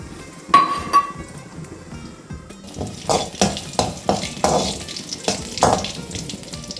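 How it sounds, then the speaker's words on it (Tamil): Cashews and raisins frying in ghee for milk payasam, a steady sizzle broken by sharp metallic clinks and scrapes of a spoon stirring against the pan, fairly close and clear. "இங்கிட்டு கொஞ்சம் நெய் ஊற்றி முந்திரியும் கிஸ்மிஸும் வறுத்து எடுத்துக்கிறோம்"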